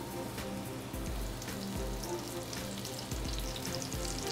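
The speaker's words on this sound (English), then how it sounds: "we'll start with nice canola oil, a high temperature oil" Mushroom pieces sear in hot canola oil, giving a steady, close crackling sizzle with occasional soft pops and stirring noises throughout.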